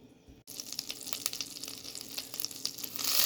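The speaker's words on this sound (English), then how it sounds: "So all we're going to do is going to melt this butter." Kerrygold garlic and herb butter melting in hot oil in a pot for bean soup, a steady close sizzle and crackle that swells louder toward the end after a brief pause at the start.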